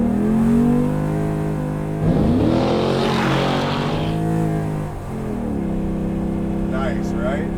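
A 650 hp 1985 Chevy S10 sleeper pickup with an LS engine accelerates hard up a straight on-ramp, its engine note rising loud and close through the gears, with a shift midway and someone speaking briefly.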